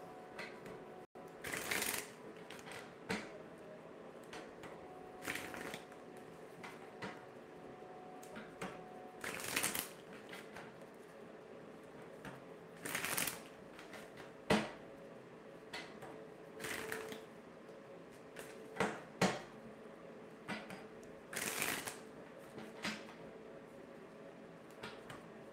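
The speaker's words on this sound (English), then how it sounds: "Okay, so let me shuffle a little bit." Tarot cards being shuffled, a series of brisk riffling bursts repeating every few seconds with quiet gaps between, close and fairly soft.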